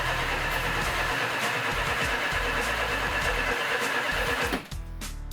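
Car engine cranking on the starter while failing to fire, a loud, steady grinding churn that runs for several seconds before cutting off abruptly near the end.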